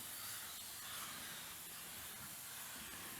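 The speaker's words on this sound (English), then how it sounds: "I have one more spray coat of color and then my clear coat." A steady, even hiss of a spray gun applying a color coat to a leather chair runs continuously, a soft airy spray sound without pauses or voices.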